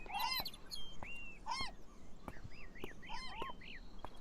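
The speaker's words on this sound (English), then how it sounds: "there's a crow on that" Crows caw in the rain in the video game Beyond Eyes, a series of short, bright calls repeating at irregular intervals, moderately clear over a quiet background, with a faint voice murmuring underneath.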